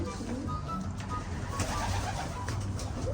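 Racing pigeons coo in a loft, a low soft repeating murmur running steadily under faint background noise with no talk.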